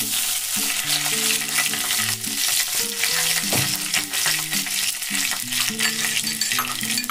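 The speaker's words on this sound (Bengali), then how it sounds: "তেলে দেবো আমি একটু কালো জিরে, একটা দেবো গোটা শুকনো লঙ্কা আর একটা তেজপাতা।" Nigella seeds, a whole dried chilli and a bay leaf sizzle loudly in hot oil, a dense continuous crackle with stirring, while soft background music plays underneath.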